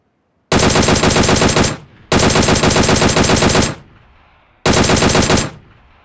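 Automatic gunfire in the mobile game PUBG Mobile comes in three loud, rapid bursts of a second or more each, separated by brief pauses, with no voices over it.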